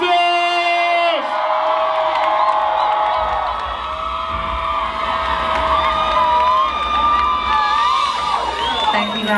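A concert crowd at a Chicago R&B show cheers, whoops and shouts loudly and continuously, a dense roar with musical tones sustained underneath.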